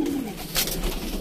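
A soft, low coo from a Punjabi pigeon sounds once in the middle, close by, over a faint background hum.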